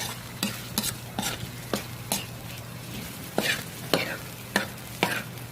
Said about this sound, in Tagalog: Gisa ko muna yung luya. Tapos sunod ko yung bawang. Tapos yung sibuyas.